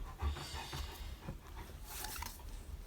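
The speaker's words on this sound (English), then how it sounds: "That's my dog breathing." A pet dog breathes heavily nearby, a soft, faint run of rhythmic panting breaths with a brief snort, in an otherwise quiet indoor room.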